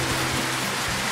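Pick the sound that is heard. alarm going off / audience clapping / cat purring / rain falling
rain falling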